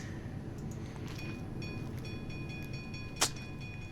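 A train runs steadily in OpenTTD, a continuous low rumble with faint tonal whine and a single sharp click near the end.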